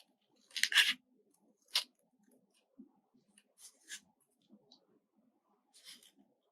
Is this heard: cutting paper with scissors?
yes